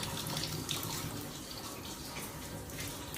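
Water runs from a tap in a brand-new house with poor water pressure, a thin steady hiss of flow that stays soft and continuous, weak and close, with no voices.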